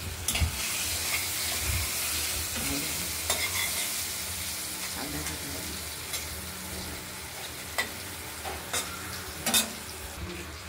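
Potatoes seasoned with turmeric and salt fry in a pan, a steady close sizzle throughout with intermittent scraping stirs and a few sharp clicks, no voices.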